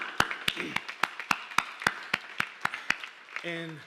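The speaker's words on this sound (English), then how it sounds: "let's give a nice and warm applause to Melissa and her team for this" Applause at a college fall convocation, heard as a run of evenly spaced, crisp claps lasting a few seconds before a voice briefly comes in at the end.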